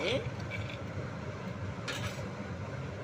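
Peanuts dry-roasting in a pan without oil for peanut karam podi, a steady rattling and scraping as the pan is stirred, close and moderately loud, with clinks throughout.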